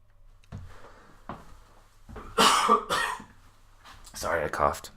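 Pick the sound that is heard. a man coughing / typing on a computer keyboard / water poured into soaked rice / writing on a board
a man coughing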